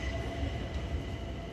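A train rumbles steadily at a rail station, a continuous low, close-up roar of rolling cars with no voices over it.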